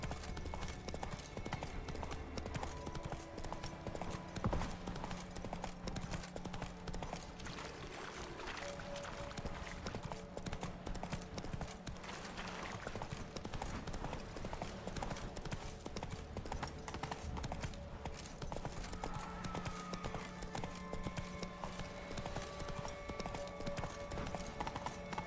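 Roach the horse gallops in The Witcher 3, a steady rhythmic clip-clop of hooves running continuously over ambient game sound and music, with a brief whinny.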